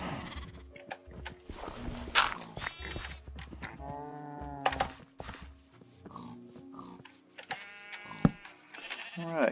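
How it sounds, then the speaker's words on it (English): Several Minecraft sheep, a baby among them, bleat repeatedly in wavering calls around a farm pen, near and fairly loud, with cow sounds and a few grunts mixed in. "it looks like 1 baby sheep wants to come in too."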